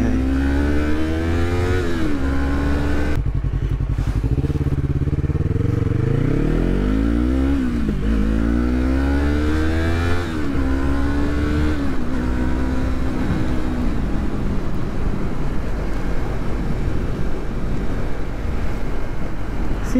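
A 2020 Yamaha MT-03 motorcycle being ridden, its engine droning loud and steady with pitch sweeping up and down through gear changes and speed shifts, wrapped in constant wind roar and no talk.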